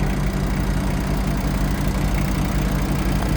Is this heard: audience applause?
no